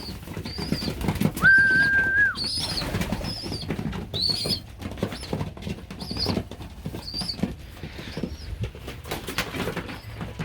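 Young pigeons in a loft, soft repeated coos and chirps mixed with wing flutters and shuffling, close and moderately loud, with a brief whistle-like tone near the start.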